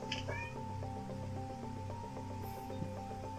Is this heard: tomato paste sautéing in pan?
no